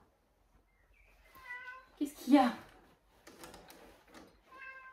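A pet cat named Haribo meows several times indoors, its short harmonic calls close by and interleaved with someone speaking French.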